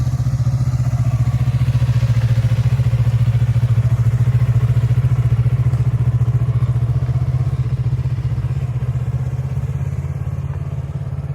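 A motorcycle runs steadily while being ridden, its strong low engine drone pulsing evenly and close for the whole stretch before easing slightly toward the end.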